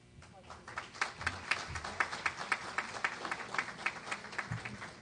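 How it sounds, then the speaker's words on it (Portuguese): Applause for a speaker at a ceremony marking an anniversary, a steady crowd of clapping hands with rhythmic sharp peaks, fairly faint and continuous, with some voices murmuring underneath. "Você viu que eu fui bem aplaudido no final, né?"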